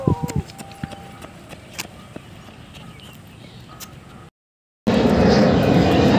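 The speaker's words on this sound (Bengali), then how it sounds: "বিমানগুলো এখান দিয়েই মানে ওঠানামা করছে।" Near Bagdogra airport, scattered clicks and light knocks give way after a brief silence to a loud, steady roar of an aircraft taking off or landing close by.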